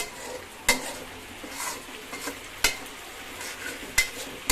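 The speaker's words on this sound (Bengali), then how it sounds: "আমি মশলাটা ভালো করে নেড়ে নেড়ে কষাচ্ছি" Spice masala for mung dal polao is stirred and fried in a pan: a soft, continuous sizzle with sharp spoon-on-pan scrapes and clinks recurring every second or two, close by, with no talk.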